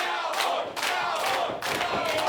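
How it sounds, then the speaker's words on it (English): A wrestling crowd at a Dojo Pro event roars and cheers in loud, surging bursts, close and dense, with shouts rising and falling in quick waves. "Crowd going crazy for James Storm here."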